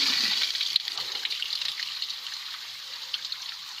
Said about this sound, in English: let's try a back flush just to see if any more silted, awful muck comes out.